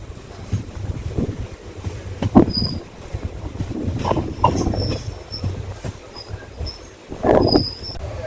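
The Karaikal–SMVT Bengaluru Express rolls across the Thirumanimuthar river bridge near Salem Town with a low rumble and rhythmic clatter. Wheels squeal intermittently and the wind buffets, rising to a louder clank near the end.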